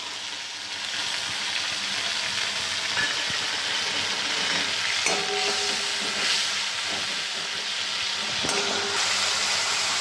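Ground coriander, cumin and Kashmiri chilli powder frying in hot oil with a splash of water for a brinjal curry in gram flour, a steady close hiss and sizzle running throughout with a few faint utensil clinks.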